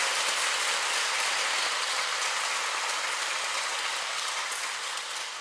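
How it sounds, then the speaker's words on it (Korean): A church congregation at Sunday Mass applauds the priest, a dense, even patter of many hands clapping throughout, easing slightly at the end, with no talk over it. "오늘 바쁘신데도 와주셔서 미사 봉헌하시고 강론해 주신 신부님께 여러분 박수 쳐주시고"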